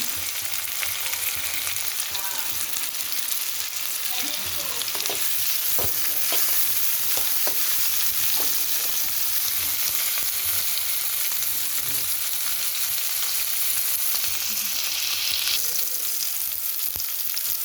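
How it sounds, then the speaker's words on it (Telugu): Tomatoes fry in a pan for a paneer curry, a steady broadband sizzle running throughout with scattered sharp clicks and scrapes of stirring, close and moderately loud, no voices. "టమాటా వేసుకోవాలి ఇప్పుడు కొంచెం వేగిన తర్వాత"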